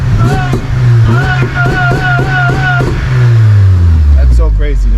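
A supercharged BMW E30 engine revs loudly in a few quick, rising bursts that then settle into a steady, droning tone with supercharger whine, close by and filling the whole clip.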